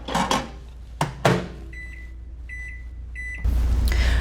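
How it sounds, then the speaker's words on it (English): A microwave oven warms a jar of sugaring paste: a few door and handling clunks, then three short beeps over a low hum, and the fan-driven whir rises as heating starts. "This sugar is going to go in the microwave for 30 to 40 seconds."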